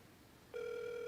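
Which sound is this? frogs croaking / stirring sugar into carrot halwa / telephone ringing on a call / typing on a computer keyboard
telephone ringing on a call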